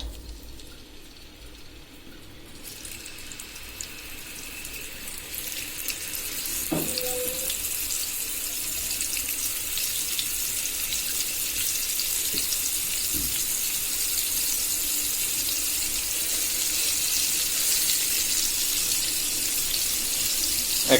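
Hilsa fish pieces coated in salt, turmeric, chili powder and soybean oil hit hot soybean oil in a wok, giving a steady hissing sizzle that swells after a few seconds and continues with occasional clinks, no talking.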